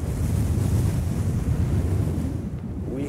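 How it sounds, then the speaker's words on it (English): Strong wind gusts near hurricane speed batter a cliff with a continuous low roar, heavy buffeting rumble against the microphone, loud and close throughout with no voices. "Probably seen wind gusts that I would guess are close to hurricane speed."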